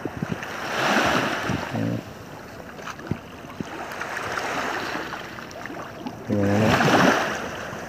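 Sea waves wash and surge in slow swells at night, rising and falling in broad rushing pulses with a few brief knocks and splashes nearby, fairly loud and close.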